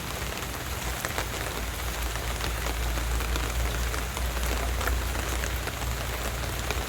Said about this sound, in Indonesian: hujannya makin deras